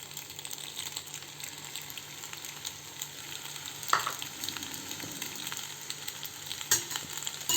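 Food sizzles and crackles steadily in a hot pan, a soft continuous frying hiss with an occasional louder clink or stir.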